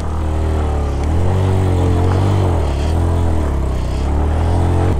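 A heavy motorcycle with a weak clutch plate and a noisy engine runs steadily and loudly up close, its low rumble and rhythmic throb continuous throughout with no talk.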